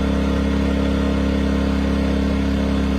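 A Westinghouse iGen2500 portable generator with a replaced carburetor running steadily after a pull start, a loud, constant engine drone with a buzzing hum and no talk.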